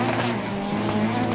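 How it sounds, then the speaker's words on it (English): Rallycross race car on gravel tyres locking up its brakes on dry tarmac, a steady loud engine roar with a tyre scrub running through the whole short stretch, commentary voice faintly under it. "Philip van der Heijden third, locks up a little. Gravel tyres on the tarmac"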